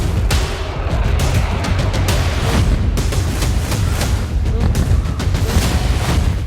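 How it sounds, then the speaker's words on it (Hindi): A barrage of serial bomb blasts and booming fire in war footage, a dense rumbling roar studded with repeated sharp thuds and cracks, loud and sustained with no break. "सिलसिलेवार बम धमाके"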